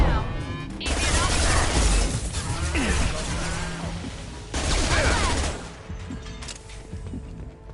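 Weapons fire in Mass Effect 2 Legendary Edition: loud, dense bursts of gunfire in two heavy waves, with quieter mechanical clatter and a lull between them.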